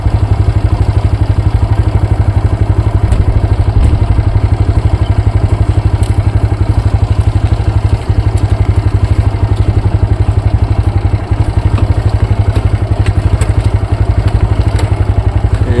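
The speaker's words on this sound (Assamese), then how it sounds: "সেইকাৰণে বাইকৰ ষ্টাৰ্ট বন্ধ কৰাই নাই, বাইকৰ ষ্টাৰ্ট বন্ধ নকৰাকৈ আহি আছোঁ" A motorcycle engine runs steadily and loudly throughout, near and unbroken with a constant throbbing rumble, while riding the Lakhimpur–Majuli road; no one speaks.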